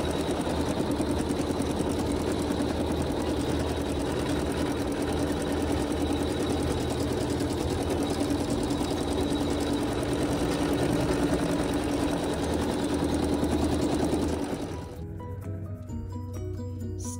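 A sewing machine sews a satin stitch on quilt block fabric, a steady fast whirring hum running loud and close for about fifteen seconds before stopping abruptly, leaving faint clicks.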